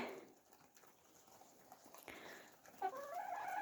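Chickens and roosters clucking faintly in a quiet barn in frosty, snowy weather, with soft scattered fowl calls and a louder cackle toward the end.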